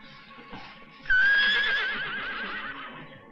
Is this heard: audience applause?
no